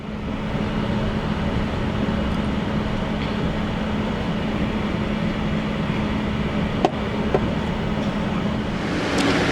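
Amtrak Cardinal passenger train rolling slowly onto a siding, heard from inside as a steady, loud rumble with a low hum and a couple of faint clicks, no talking.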